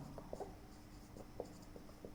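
A pen writes an algebra solution on paper, giving faint, close scratching strokes in short bursts with brief pauses, over a quiet room background.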